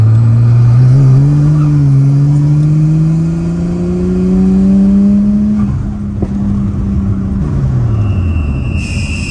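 A tuned Nissan Skyline R33 engine screams loud and near, its pitch climbing steadily for several seconds under hard acceleration before dropping sharply as the revs fall away.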